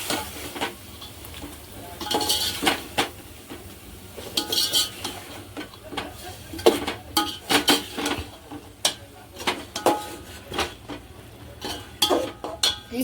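Egg biryani masala with fried eggs stirred in a pan over low heat, a metal spoon scraping and clinking against the pan in irregular bursts over a soft sizzle, close and without speech.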